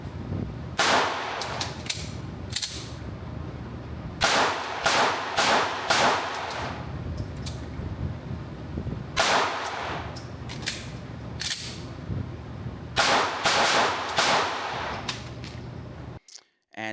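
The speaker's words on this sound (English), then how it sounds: "I decided to go back and kind of like shoot each gun, you know, back to back" Pistol shots from a Staccato XC and an AlphaFoxtrot Romulus are fired outdoors in several rapid strings of sharp cracks. The strings are separated by short pauses, loud and close, with occasional faint talk in between.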